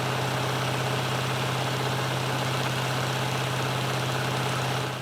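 A massive V8 diesel truck engine fitted in a tiny boat runs at a steady idle, a loud, continuous low drone with constant vibration and no break throughout.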